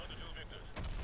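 Gunfire in the Call of Duty Modern Warfare 2 remaster, fired from a moving vehicle: a sudden loud burst near the end cuts over a steady engine drone and a high whine.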